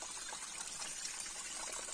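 Water pours forcefully from a pipe out in the woods, a continuous near hiss and splatter that stays even throughout.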